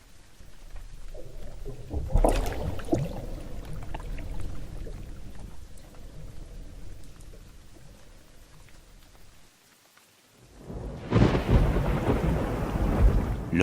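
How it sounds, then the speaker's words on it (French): A thunderstorm with heavy rain pouring steadily, a loud crack of thunder early on and another powerful rumbling burst near the end. "L'orage va bientôt éclater."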